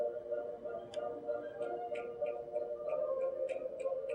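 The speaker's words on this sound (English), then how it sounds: "Hear the metronome?" Orchestral music from the second movement of Beethoven's 8th Symphony plays softly while faint, regular ticking, like a metronome, beats steadily through it.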